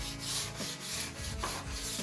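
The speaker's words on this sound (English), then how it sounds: "So we're sanding the edges." Wood slat edges being sanded by hand for a slat wall, a soft repeated rubbing stroke with a rhythmic back-and-forth pattern, close and quiet.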